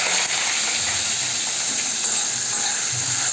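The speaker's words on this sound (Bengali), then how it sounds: "এর মধ্যে আমি তেলের মধ্যে পেঁয়াজটাকে দিয়ে দিলাম।" Chopped onion fries in hot oil with whole cumin seeds and whole dried red chillies, a loud, steady, dense sizzle that holds without a break.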